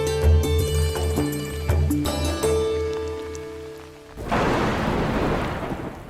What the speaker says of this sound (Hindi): बारिश की रिमझिम फुहारों को ही लीजिए।